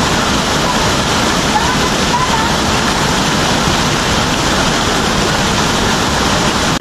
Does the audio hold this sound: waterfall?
yes